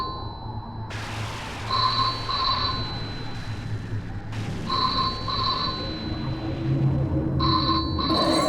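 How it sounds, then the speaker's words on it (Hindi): A telephone rings in repeated pairs of bright, electronic trills separated by short pauses, over a low background hum. "लगता है फोन की घंटी बज रही है।"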